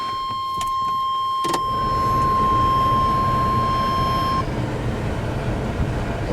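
A replacement blower motor fan in a 1985 Chevy C30 runs as a steady, close rushing whoosh of air, with a thin motor whine that drops away partway through while the airflow continues. No one speaks.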